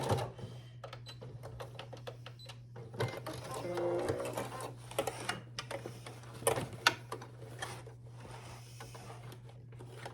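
A sewing machine stitches and backstitches a summer tote in short, rapid bursts of mechanical clatter over a steady low hum, close by.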